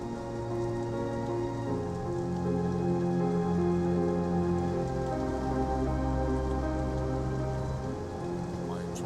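Drizzling rain falls in steady, continuous patter on the surface, a soft, even hiss that holds for several seconds, with a low droning hum underneath and no voices.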